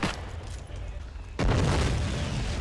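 A Soviet PTRD anti-tank rifle is fired in the World War II shooter Heroes & Generals, producing a single heavy booming blast mid-clip. The shot rolls out over background battle noise.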